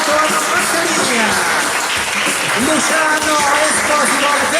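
Concert audience applauding the keyboard player during a band introduction at an outdoor summer song festival at Maschio Angioino in Naples, a steady, loud wash of clapping with music and voices audible underneath throughout.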